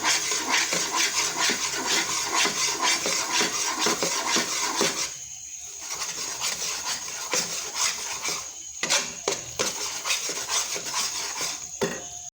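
Gram flour being stirred into oil in a pan for besan halwa, a steady scraping and rasping of a spoon against the metal pan, continuous with a brief pause midway, close and fairly loud.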